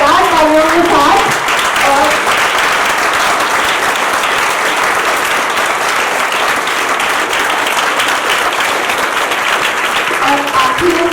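A school audience breaks into loud, sustained applause that fills the whole stretch, with a few voices heard briefly at the start and end.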